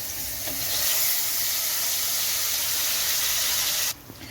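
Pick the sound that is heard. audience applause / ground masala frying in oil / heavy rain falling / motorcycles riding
ground masala frying in oil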